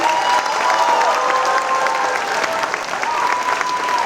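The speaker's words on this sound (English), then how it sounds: "please stand up so we can applaud you" Audience applause at a fourth grade moving-up ceremony for the 3rd and 4th grade musical students standing up; a steady, full wash of clapping from a large crowd, with a sustained tone running underneath.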